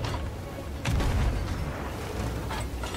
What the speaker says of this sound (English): Unless you just shot a fireball.